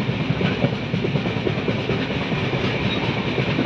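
A moving passenger train rumbles steadily along the rails near Deoghar, a loud continuous roar with faint rhythmic clatter throughout.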